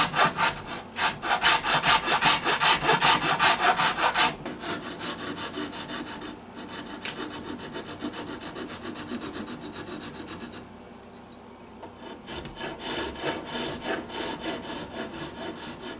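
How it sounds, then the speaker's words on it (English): Sanding the finish off the soft wood of a guitar body during a carbon fiber repair, a steady close abrasive rasping in continuous strokes, louder at first, then easing and resuming. "I'm just barely taking the finish off of this middle part"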